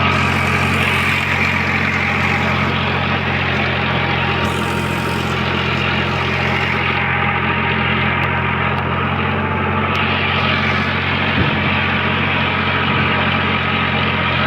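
A Farmtrac 60EPI T20 tractor engine runs continuously at close range, a loud, steady diesel drone with a firm low hum that holds unchanged throughout, with no talking.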